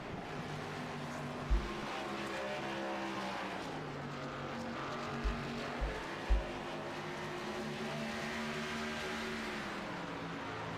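Stock cars in a racing video game at Dover roar steadily around the track, a dense layered engine drone with a few brief low thumps, with no voices over it.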